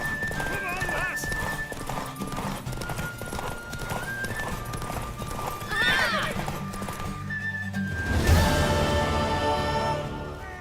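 Rhythmic clip-clop of horse hooves in The Witcher 3 during a horse race, with a horse neighing loudly near the end and voices talking over the galloping.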